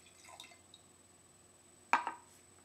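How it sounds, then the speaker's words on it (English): Water is poured into a glass for a paper chromatography setup: a few faint drips early on, then one short, sharp splash and trickle near the end, close by and otherwise quiet. "grab some water and pour it into the glass"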